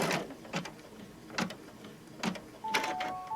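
An embroidery machine stitching a zippered pouch in the hoop, faint rhythmic mechanical whirs and clicks recurring every second or so, with a brief electronic tone near the end.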